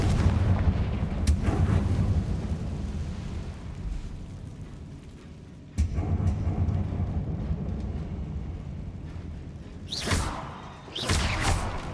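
A fire spell cast in the Hogwarts Legacy game inside decayed spider catacombs, booming as heavy explosive blasts: a long rumbling roll, a second sharp thump near six seconds, then crackling bursts near the end.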